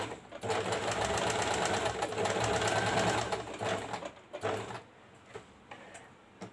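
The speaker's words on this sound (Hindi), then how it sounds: "यहाँ जो हमारी मार्किंग थी उसको पर मैं सिलाई कर लूँगी" A sewing machine stitching along a marked line on a blouse sleeve, running in a steady fast rattling burst for about four seconds, then slowing into a few short separate runs, close up and alone.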